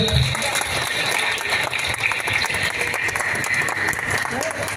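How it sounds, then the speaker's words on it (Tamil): Applause from an audience at a school alumni gathering in Thoothukudi, a continuous dense clatter of clapping that holds steady for several seconds with crowd murmur underneath. "நன்றியின் அடையாளமாக ஒரு கைத்தட்டல்"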